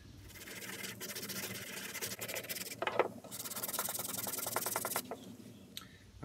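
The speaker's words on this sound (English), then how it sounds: "you just kind of have to keep sanding until you get those down" Sandpaper rubbing back and forth over an HDPE plastic slingshot, a close, continuous rasping scrape in rhythmic strokes with brief pauses between passes.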